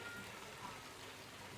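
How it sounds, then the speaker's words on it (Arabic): Rain falls in Vietnam as a faint, steady hiss of drops in the background. "من موراك الماء، الشتا كطيح."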